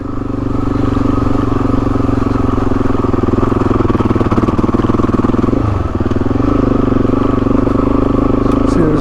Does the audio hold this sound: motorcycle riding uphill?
yes